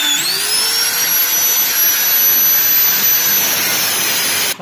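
A power tool shrieks steadily while cutting open the catalytic converter of a Daihatsu Gran Max, with a loud, sustained high-pitched whine and grinding hiss that holds without a break until it stops abruptly at the end.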